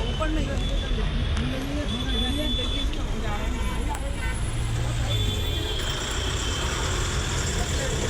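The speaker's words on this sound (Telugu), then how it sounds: "మేము ఒక బస్ ఎక్కాము కలకత్తాలో" A city bus rides through Kolkata traffic with a constant engine drone and road noise, and horns and passing vehicles come through as a crowd of passengers talks over it throughout.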